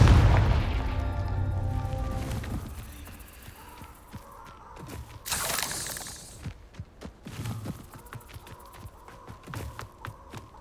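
The Confringo blast spell in a video game goes off as a sharp, booming burst that trails into debris-like crackles, followed by quieter scattered clicks and thuds.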